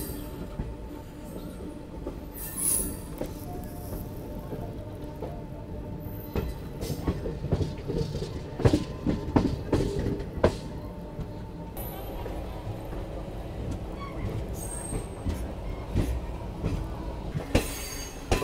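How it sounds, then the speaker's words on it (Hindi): The Mahananda Express rumbles steadily as it runs into Katihar Junction, heard from inside the coach. Wheels clack and squeal at intervals and metal clinks occasionally over the continuous noise of the moving train. "यहाँ हमारी ट्रेन कटिहार जंक्शन पहुँच रही है"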